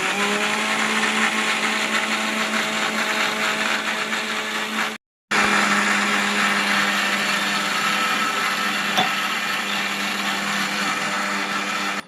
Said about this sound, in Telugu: సరే అండి ఇంకా రోజు అయితే మిక్సీ అయితే ఆన్ చేసింది